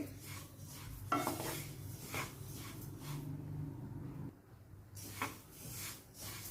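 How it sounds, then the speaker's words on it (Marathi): Sesame seeds are stirred and roasted in a pan over a low flame, with repeated scraping and rustling strokes against the metal at close range and no speech. "मंद आगच ठेवायची आणि व्यवस्थित असं ढवळून भाजून घ्यायचं"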